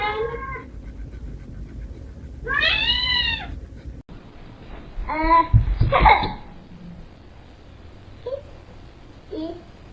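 A cat meows in a rising, wavering cry, with a couple of shorter meows and a voice heard close by in a home with a faint steady background hum.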